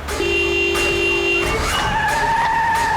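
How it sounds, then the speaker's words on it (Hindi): A recklessly driven car skids with loud, sustained tire squeals that shift pitch as it slides, engine noise underneath, sharp and close with no voices. "ये गाड़ी ऐसे क्यों चला रहा है?"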